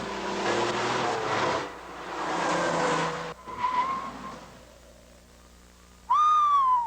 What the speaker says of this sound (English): 300ZX Turbo. You know the car.